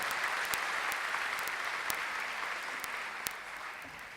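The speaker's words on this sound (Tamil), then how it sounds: "அதுக்கு நாம் ஒரு மிகப்பெரிய கைத்தட்டலை கொடுத்து பாராட்ட வேண்டும்" An audience claps steadily, a dense wash of applause with a few sharp louder claps standing out, tapering slightly toward the end.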